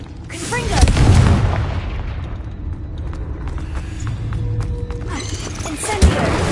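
A Confringo blast spell in the Hogwarts video game: a booming explosive burst with a rumbling tail, followed by softer crackles and another thud near the end, amid game ambience.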